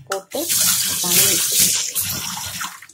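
Tap water pours steadily into a kitchen sink during nighttime countertop cleaning, a continuous close rush with someone speaking over it throughout.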